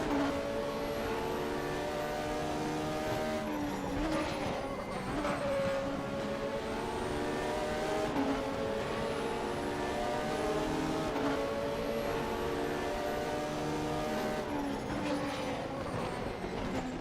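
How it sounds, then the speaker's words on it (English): A race car engine in RaceRoom Racing Experience, on the Bilster Berg circuit, drones loudly and steadily, its pitch sweeping up and down through gear changes with a rough, barking edge and no talk over it. "Nice bark kind of a noise from this car."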